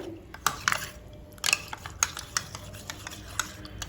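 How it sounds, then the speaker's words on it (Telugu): Spoon stirring fruit salad dressing sweetened with rock sugar in a bowl: quick repeated clinks and scrapes of metal against the dish, an irregular rhythm close up, with no talking. "ఇది మంచిగా మనకు స్మూత్గా వచ్చేదాకా కలపాలి"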